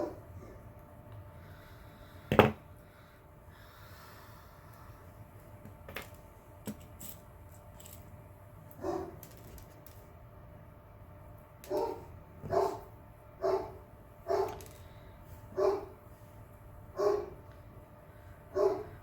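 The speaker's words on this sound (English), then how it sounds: "There's my senior Great Dane barking at the wind." A senior Great Dane barks indoors, first a single loud bark, then after a quiet stretch a steady series of deep, moderately distant barks spaced about a second apart.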